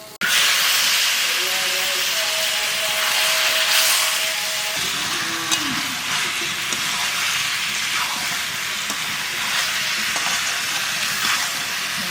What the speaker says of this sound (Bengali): এইবার মশলার মধ্যে মাছ দিয়ে আর একটু কষাই নেবো